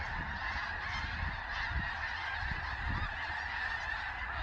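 A large flock of geese honks continuously at a distance, a dense, steady chorus of overlapping calls with no voices.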